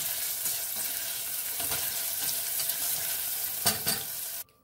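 Diced Lil Smokies sausages and vegetables sauteing in a pan give a steady sizzle with stirring scrapes, close and even, cutting off abruptly at the end.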